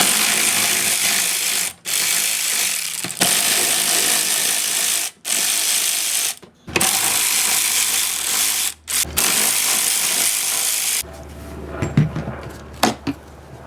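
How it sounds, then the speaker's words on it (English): A ratchet wrench clicks in long continuous bursts while backing out the four bolts on a MAF airflow sensor of a 3g Eclipse, close and loud, separated by brief pauses, ending with a few lighter knocks. "you're gonna want to take off these 4 bolts right here and then take off the MAF Airflow sensor"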